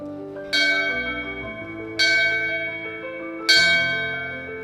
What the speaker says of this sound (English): It was the bell that rang 3 times to signal the end.